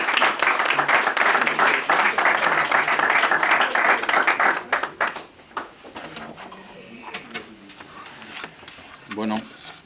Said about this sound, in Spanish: Así que un aplauso para César Vidal.